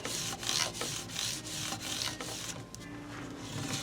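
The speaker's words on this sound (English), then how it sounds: "Then I'll just rub it across here like this a little bit, just to really smooth them out." A fine-grit micro mesh pad rubbed back and forth across guitar frets during a restring: rhythmic, close scraping strokes about twice a second, fading to lighter rubbing near the end.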